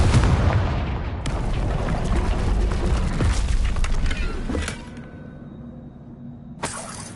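A Confringo explosion spell cast in Hogwarts Legacy hits with a loud crackling blast and shattering debris, a second burst follows, and the rumble dies away into quiet with a final sharp crack.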